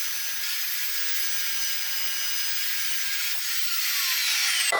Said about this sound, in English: let's make this cut